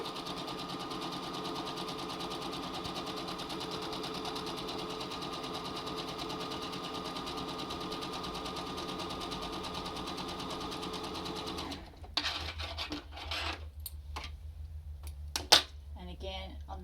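A sewing machine runs a steady, fast zigzag stitch on a cloth face mask for about twelve seconds, then stops, followed by a few handling clicks and a soft voice.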